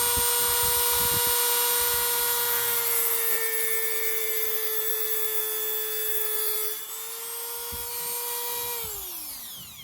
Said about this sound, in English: I'm going to take my Dremel and I'm going to slot the screw